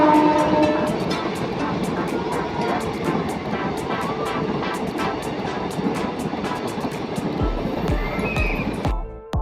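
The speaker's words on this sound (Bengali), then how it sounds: "দেখুন কথা বলতে বলতে ট্রেন চলে এসেছে" A train rattles past nearby a railway level crossing with rhythmic clickety-clack of wheels on rail joints, steady and loud, fading into a brief thump at the end.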